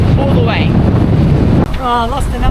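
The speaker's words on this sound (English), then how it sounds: "It is windy out there." Heavy, rumbling wind buffeting close to the microphone on a sailboat at sea off Turkey, with a voice speaking briefly over the gusts.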